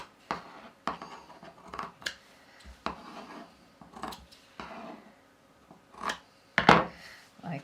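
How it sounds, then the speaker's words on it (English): Scissors snip through stitched fabric at the corners of a sewn bag slip pocket, a series of short, close crisp cuts spaced about a second apart with light rustling of cloth between them. "I'm just going to trim these corners down."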